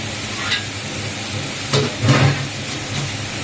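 Young jackfruit frying in hot oil in a home kitchen, a steady close sizzle with a few louder crackling bursts as the pieces are stirred, no voices.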